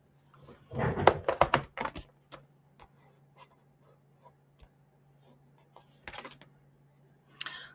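Clatter of typewriter keys struck in a quick burst, then sparse isolated clicks and a short second flurry, close and fairly quiet over a steady low hum.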